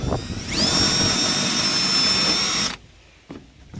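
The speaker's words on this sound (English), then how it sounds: "so now we're just gonna drill some holes in these corners here" Power drill boring holes into the corners of a New Holland manure spreader during a broken axle repair, one loud sustained high whine for about two seconds that spins up then cuts off, followed by a few faint knocks.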